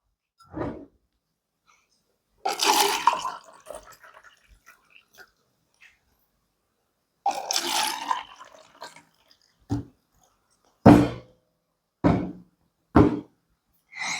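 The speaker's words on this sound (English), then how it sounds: "First, fill 2 glasses with water." Water is poured into two glasses, heard as two separate splashy pours a few seconds apart, each followed later by sharp, close knocks and clunks in an otherwise quiet room.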